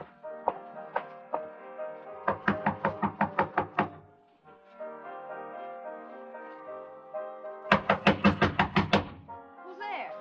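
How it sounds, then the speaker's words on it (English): Knocking on a hotel room door as a radio drama effect: several bursts of quick, sharp knuckle raps, some in rapid runs of around eight, with a musical tone underneath, close and clear. "I walked up to her room and knocked on the door"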